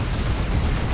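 A plasma cannon blast in the strategy game Dawn of War 2 bursts as one dense, rumbling explosion that fills the whole second without a break.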